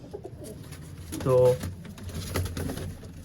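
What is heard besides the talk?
pigeons cooing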